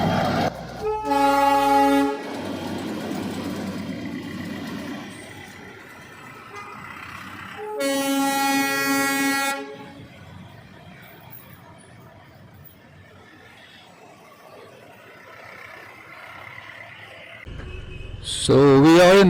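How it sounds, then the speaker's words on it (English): The Darjeeling toy train rumbles along its tracks close by, sounding two long blasts of its horn several seconds apart over a steady rolling clatter that fades between them. "So this is the famous toy train of Darjeeling."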